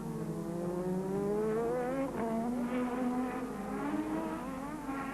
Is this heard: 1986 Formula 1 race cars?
yes